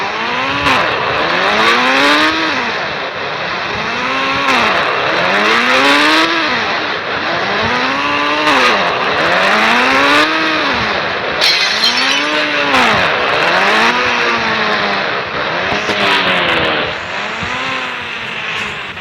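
A motorcycle engine in the Indian Bike 3D video game revs up and drops back over and over in a steady rising-and-falling cycle. Occasional crashes and clatter punctuate it, with no voices.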